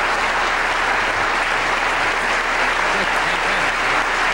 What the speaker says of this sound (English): I think you deserve a round of applause for that.